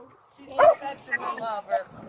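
An old dog barks and yips in short bursts close by, mixed with people talking over it.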